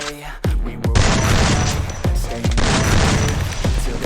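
Rapid gunfire in the shooter game Free Fire: repeated loud, close bursts of shots strike in quick succession, each volley sharply attacking and overlapping the next with almost no pause between them.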